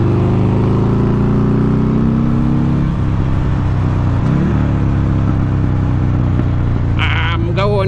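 A Buell motorcycle engine pulls hard through rising and falling revs, loud and close, with gear changes evident and a brief higher whine near the end.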